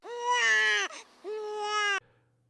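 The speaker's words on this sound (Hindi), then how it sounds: "दूर से किसी बच्चे की अजीब तरीके से रोने की आवाज आती है।" A baby wails loudly in two long, strained cries separated by a short gasp, heard up close.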